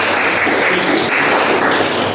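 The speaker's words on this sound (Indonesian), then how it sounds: "Berikan tepuk tangan." Applause from a classroom audience during a Japanese language lesson, a steady dense wash of clapping that fills the whole moment without a break.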